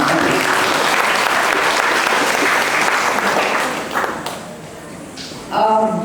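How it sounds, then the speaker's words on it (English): Audience applause at a Kathak dance show in Dubai, a thick wash of clapping that stays loud for several seconds before thinning out, with a voice breaking in at the end. "Let's clap once again."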